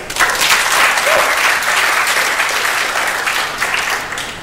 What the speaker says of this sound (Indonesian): Oke, aplaus buat panitia.